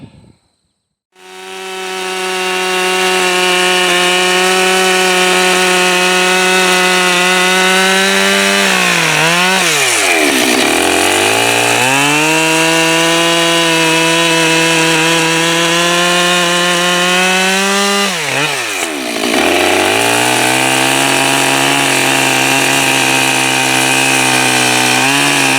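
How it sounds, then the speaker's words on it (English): A Holzfforma G395 chainsaw cuts into a large ash tree, its loud, continuous high-pitched engine whine holding steady. The pitch drops and bogs down briefly twice, then climbs back to full rev. No voices are heard. "Yep, this is a saw."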